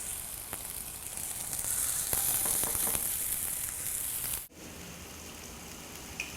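Homemade Italian-style mince burgers frying in a lightly oiled pan over medium heat, a dense close sizzle with crackling pops that cuts off abruptly near the end, leaving quieter kitchen background.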